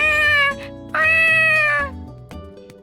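A stray cat meows twice in the visual novel game The Fruit of Grisaia, loud and close, each call drawn out, over a soft synthesized backing tune.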